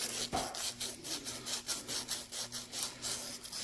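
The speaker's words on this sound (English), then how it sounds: "Just getting in here with some sandpaper." Sandpaper rubbed by hand over a primed and painted metal control arm, a close, steady run of rasping back-and-forth strokes.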